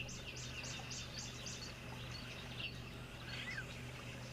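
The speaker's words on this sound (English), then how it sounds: "enjoy the sounds of the bird life" Wild birds call in a natural outdoor setting, with a string of repeated chirps early on and a couple of brief calls later, distant and faint over a steady background hum.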